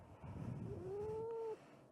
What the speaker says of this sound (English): he's just a regular old domestic cat